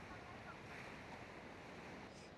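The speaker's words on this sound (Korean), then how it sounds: "파도가 이렇게 치고 있어요." Ocean surf on the Okinawa coast: a steady, fairly faint wash of waves breaking on the shore mixed with wind noise, with no distinct individual breakers.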